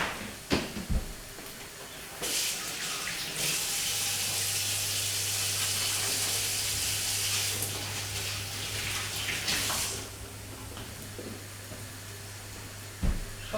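Kitchen water tap running into a sink during handwashing after handling raw egg, a steady hiss of flowing water lasting several seconds, with clicks and knocks before and after.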